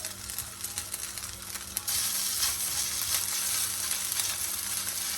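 Meatless buckwheat and potato cutlets fry in a pan with a continuous close sizzle. The sizzle swells louder after a quieter start and keeps a crackling, bubbly texture throughout.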